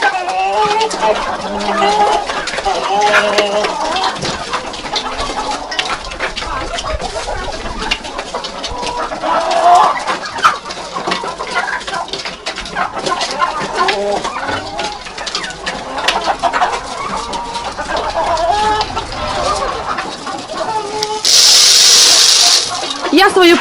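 Chickens clucking and calling in a farmyard shared with young turkeys, a busy continuous chorus of fowl sounds close by, with people talking over it and a brief burst of running water or noise near the end.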